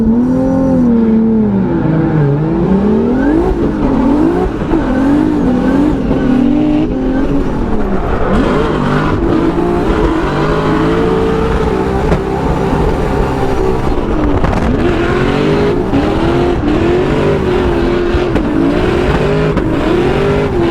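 Drift car engine in a racing video game set at a Formula Drift Utah event, revving hard and continuously with rising and falling pitch as the car slides through the run, loud and close throughout.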